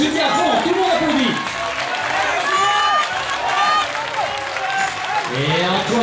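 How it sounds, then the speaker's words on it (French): Applause and cheering from a stadium crowd at an athletics meeting in Namur, a steady dense roar running throughout with a commentator's voice talking over it. "tout le monde applaudit"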